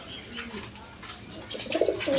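Pigeons coo at a seller's stall among a pair of live pigeons, a low murmuring coo running through background bustle, a louder burst near the end.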